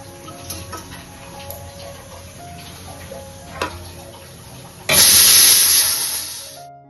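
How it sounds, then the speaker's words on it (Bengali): A pressure cooker cooking dal lets out a loud, sudden hiss of escaping steam that lasts about two seconds before tapering off, after a stretch of quiet kitchen background with faint ticks. "ভাতটা বসাতে বসাতেই প্রেসার কুকারে সিটি দিতেও শুরু করেছিল"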